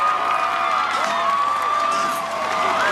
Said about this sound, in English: the crowd is really getting behind the horse